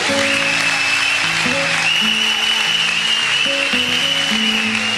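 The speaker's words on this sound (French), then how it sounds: "Acclame Jésus comme tu ne l'as jamais acclamé" A church congregation cheers and applauds for Jesus in a steady, dense roar of clapping and acclaim, with sustained organ or keyboard chords ringing underneath throughout.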